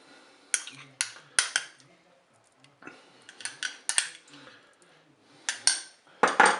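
Spaghetti with tomato paste and mustard being stirred in a Cookeo multicooker pot, a utensil scraping and clinking against the pot in several loud bursts with short pauses between.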